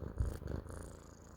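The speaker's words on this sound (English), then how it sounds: "He's purring." A cat purring close up, a soft low rhythmic rumble that swells briefly then continues quietly for about a second and a half.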